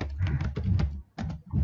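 Short bursts of keystrokes on a computer keyboard while entering a command on a network switch terminal, a quick close patter of clicks with a brief pause midway.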